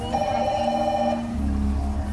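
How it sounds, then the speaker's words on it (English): A rescue phone for a sea lion rescue team rings with a steady electronic tone, loud and close, running the full length with a low background hum and no talk. "I think that's the rescue phone now."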